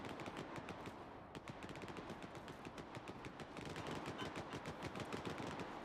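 Sustained automatic gunfire rattles on in a Stalker 2 battle, dense rapid bursts of machine-gun shots overlapping continuously without a break.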